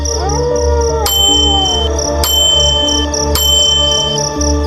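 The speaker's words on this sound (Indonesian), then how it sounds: "tiba-tiba lonceng kecil di gerobakku berbunyi sendiri" A small bell on a satay vendor's cart rings three times at even intervals, each strike bright and close, its tones lingering and overlapping over a low steady hum.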